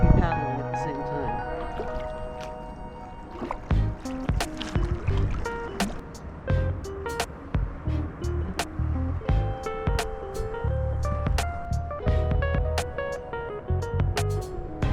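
An inner tube is paddled through river water with light rapids, giving splashing, dripping strokes close by while a person talks over the water sounds.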